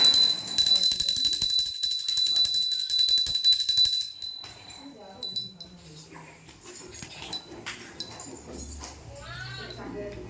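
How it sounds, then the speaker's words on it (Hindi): A small handheld puja bell rings in rapid, bright repeated strokes during a household Suhagle puja, loud and continuous for about four seconds, then stops, leaving quieter room sounds, faint clinks and some background voices. "घंटी बजा के घंटी रखी।"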